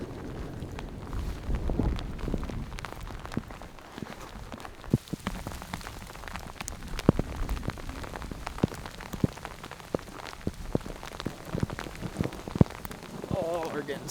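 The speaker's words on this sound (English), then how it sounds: "We're running from the rain. We might get soaked." Steady rain pattering on the ground outdoors while people hurry through it during a deer scouting trip, dense patter with frequent close individual drops and a muffled low rumble of movement underneath.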